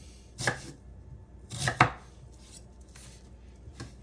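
Knife slicing steak on a cutting board while prepping Swiss steak: a few distinct, close cuts with a crisp board contact, clustered near the start and middle and then trailing off, with no talk.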